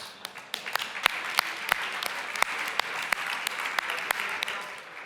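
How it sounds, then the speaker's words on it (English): An audience at a leadership talk applauds itself, a moderate crowd of clapping with distinct sharp individual claps standing out at irregular intervals. "So a round of applause for yourselves."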